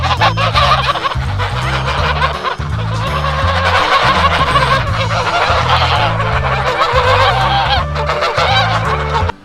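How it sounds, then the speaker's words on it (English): Loud, raucous geese honking continuously, several birds calling over one another in a dense, overlapping chorus with no pauses. "geese are loud. That's it. They're loud. They're just loud and obnoxious."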